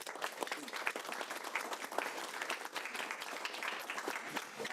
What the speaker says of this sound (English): Give them one quick round of applause for me.